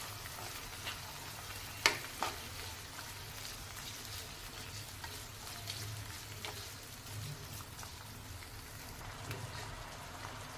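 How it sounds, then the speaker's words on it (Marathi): Washed rice is sautéed in a pan of tempering with coriander, a soft low sizzle with a few faint stirring clicks and scrapes, quiet and steady throughout. "धुतलेला तांदूळ घातलेला आहे, हे देखील आपल्याला परतून घ्यायचं 1-2 मिनिटं"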